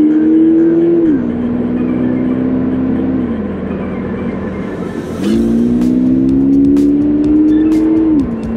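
A Toyota GR86 sports car engine drones loudly on the Tail of the Dragon winding road, its pitch stepping through gear shifts as it accelerates and slows, with tires faintly squealing around corners.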